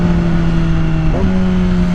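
A Yamaha R6 sport bike engine holds a steady tone, then gives one quick rev-matching blip on a downshift before settling back, loud and close with no talk.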